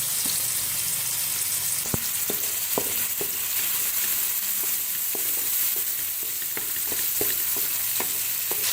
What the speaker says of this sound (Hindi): देखिए मैं प्याज डाल रही हूँ, ये चॉप जो प्याज थे हमारे,